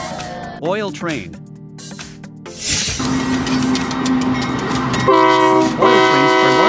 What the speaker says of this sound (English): Oil trains are large capacity vehicles used to transport oil or liquefied gas all over the world.